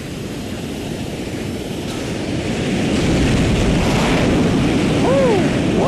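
A fighter jet launching from an aircraft carrier in the game TopGun Hard Lock sends up a loud, steadily building engine roar, with a brief rising whine near the end.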